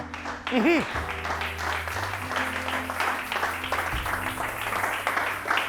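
A church congregation applauds and cheers to acclaim the Lord during a French-language sermon, a dense, steady wash of clapping with a preacher's voice ringing over it.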